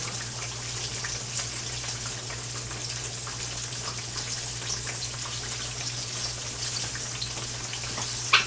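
Green tomato slices fry in a pan with a steady, close crackling sizzle that runs throughout, a low hum underneath and a brief clatter at the very end, with no talk.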